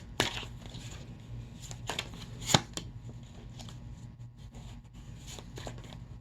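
Tarot cards are shuffled by hand in short bursts, with crisp riffling flutters and soft slaps at irregular intervals against a quiet room background, no voice present.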